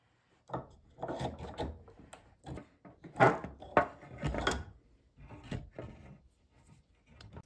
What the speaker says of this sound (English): What I'm gonna do is just sandwich this in this woodworking vise and just press that in.